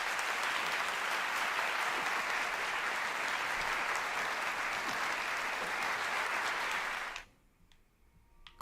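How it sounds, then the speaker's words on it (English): Studio audience applauding guests, dense sustained clapping that holds steady for several seconds and then stops abruptly, leaving near silence. "Can we have a round of applause for both our guests?"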